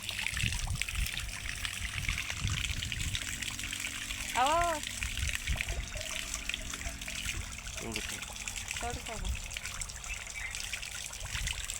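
Coconut water trickles steadily out of a freshly opened coconut into a metal pot, a continuous close liquid dribble running under people talking.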